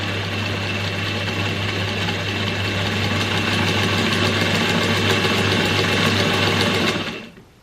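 Vintage Singer 99K sewing machine winding a bobbin, a loud steady mechanical whir with a rapid rhythmic tick that runs without a break and then winds down abruptly at the end.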